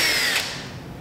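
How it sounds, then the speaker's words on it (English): A power drill with a Phillips bit whirs briefly at high pitch while undoing door lock bolts, then spins down and stops. "Get a drill."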